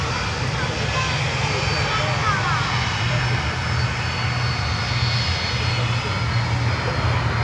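A LATAM Cargo Boeing 767 jet departing Miami airport gives a steady, moderately distant engine roar with a persistent low hum and hissing upper wash, even in level from start to finish.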